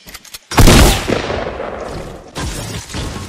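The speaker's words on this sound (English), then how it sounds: "I keep shooting the frickin' wall." Gunfire in the Fortnite video game: a loud, sharp burst of shots starts about half a second in and decays into a rumbling tail, then a second, weaker shot follows near the end, with no talking.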